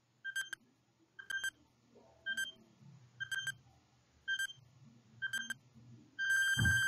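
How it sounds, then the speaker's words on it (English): Countdown timer for a ten-second math quiz, beeping seven times at a steady one-per-second rhythm, ending in a longer sustained tone, with faint low background noise between beeps. "let's use the timer."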